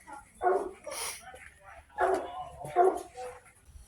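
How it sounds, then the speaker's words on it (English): Young puppies bark and yip in short bursts at close range inside a 2000 Taurus wagon, with several barks spread across a few seconds and a person speaking softly in between. "Hello, puppies."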